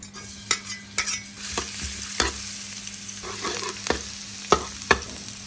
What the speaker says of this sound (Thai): ใส่น้ำมัน ใส่กระเทียม